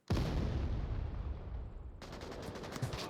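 A long-range gunshot in the VR shooter Onward, a sharp loud report followed by a long rolling echo, then a quick burst of further shots near the end, heard alone.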